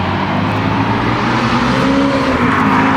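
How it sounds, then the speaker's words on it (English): A Ford Mustang GT350 rolls by with a loud, steady roar of engine and road noise that holds at full level throughout. "there was this Mustang passing by"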